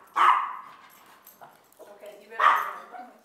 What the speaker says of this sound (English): That was my brother's dog that he left here and never took back with him.